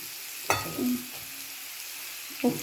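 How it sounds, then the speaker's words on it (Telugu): Ridge gourd pieces with turmeric fry quietly in a pan, a soft low sizzle punctuated by a few sharp stirring scrapes, with no talking. "పసుపు వేసేసి ముక్కలు వేసేద్దాం."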